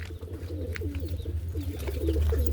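Pigeons coo close by in soft repeated rolling phrases over a low steady hum, several calls overlapping across the stretch.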